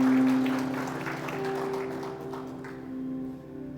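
A church congregation gives applause to the Lord during a Spanish sermon, a soft diffuse patter of clapping that slowly fades, mixed with sustained organ-like tones beneath.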